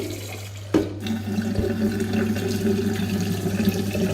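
Tap water running steadily into a sink while rice is rinsed, a constant close splashing flow with a low hum underneath and a brief knock near the start, no talking.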